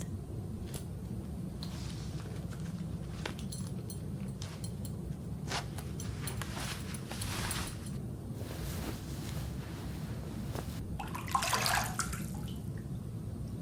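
Steady water sloshing and splashing in a filled bathtub as a person climbs in, with a brief louder splash near the end; continuous and fairly close, with no talking.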